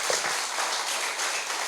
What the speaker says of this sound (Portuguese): Você consegue aplaudir a Cristo?